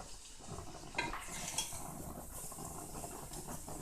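A spoon stirring ugu vegetable soup in a pot on low heat, faint scraping and soft clinks against the pot with a couple of sharper taps, quiet and close.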